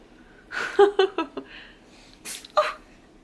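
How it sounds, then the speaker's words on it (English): A cat sneezes several small, quick times in a row, close by, then a brief pause and one more sharp sneeze; no talking. "Oh, my kitty's sneezing."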